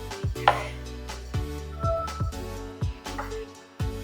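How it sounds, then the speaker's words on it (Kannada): Aloe vera gel and coconut oil are stirred together in a bowl, with repeated scraping strokes of a utensil in a steady rhythm, close and fairly quiet, and no talking. "ಈ ರೀತಿ ಕೊಬ್ಬರಿ ಎಣ್ಣೆ ಜೊತೆ ಅಲೋವೆರಾ ಜೆಲ್ನ ಮಿಕ್ಸ್ ಮಾಡ್ಕೊಂಡು"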